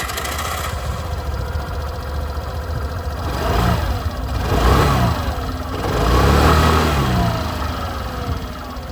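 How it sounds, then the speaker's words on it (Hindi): A Suzuki Avenis 125 scooter starts up and idles, its exhaust rising in two or three short throttle blips before settling back to a steady, close-up idle. "जो एग्जॉस्ट साउंड है वो भी मैं आप लोगों को सुना देता हूँ। स्टार्ट करते हैं यहाँ पर एवनिस के साथ।"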